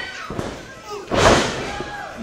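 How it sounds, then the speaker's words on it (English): A pro wrestling headbutt lands on an opponent's shoulder blades at a New South Pro Wrestling match, giving one broad, heavy thud partway through, with crowd and arena noise around it. "Headbutt directly to the shoulder blades at that."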